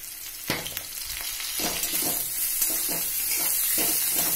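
Chopped garlic and torn green chilies hit hot oil with onions in a pan, giving a loud, continuous close sizzle with several sharp stirring scrapes spread through it.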